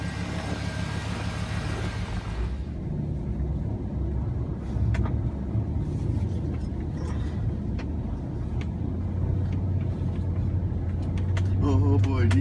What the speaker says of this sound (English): we're going to take the old tow pig here, put her in four-wheel drive, and try to get out into the backyard and rescue the trailer